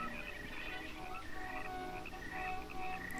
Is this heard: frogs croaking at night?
yes